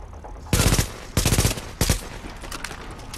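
Rifle gunfire in the shooter game The Division comes in three loud, rapid automatic bursts separated by brief pauses, with a low background hum between them and no talk.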